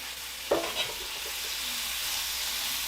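Dried chilies toasting in a hot pan for Texas chili give a sudden sharp sizzle and stir, then a steady broad frying hiss that holds on, close and loud.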